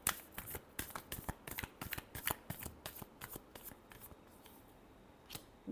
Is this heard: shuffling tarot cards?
yes